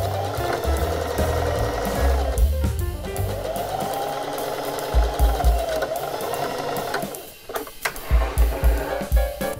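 A sewing machine stitches together the ends of a pyjama-trouser waistband band into a loop, a close steady mechanical whir that runs continuously, dips briefly, then resumes in short rhythmic pulses.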